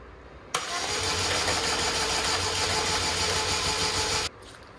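A Chevrolet Malibu engine cranks and catches, then runs at a steady, loud idle for about four seconds before abruptly shutting off, with no talking.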